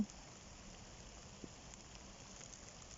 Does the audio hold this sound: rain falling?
yes